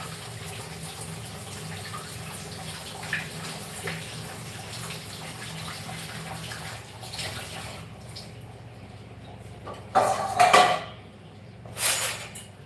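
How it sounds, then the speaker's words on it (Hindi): Running tap water over vegetables being washed in a home kitchen sink, a steady close trickle with a few louder splashes and clatters toward the end. "सब्जी बनानी है ना, उसके लिए मैं सब्जी धो रही हूँ।"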